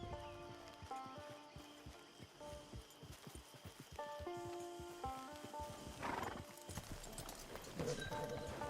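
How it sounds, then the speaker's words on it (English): Horse hooves clip-clop in Red Dead Redemption 2 Online, steady rhythmic steps near a camp with an occasional whinny, over a bed of tonal game music. "Get your horse."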